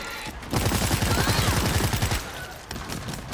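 Rapid automatic gunfire in the zombie shooter World War Z Aftermath: a dense burst of fast shots lasting about two seconds, loud and close, then quieter scattered game noise.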